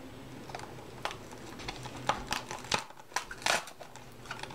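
Plastic wrapping taped to a cardboard slipcover being ripped: close, scattered crinkling and tearing crackles in short irregular bursts, fairly quiet overall.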